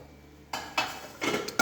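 A pressure cooker of boiled horse gram is opened, with a few sharp metallic clanks and clatters of the lid and pot close by.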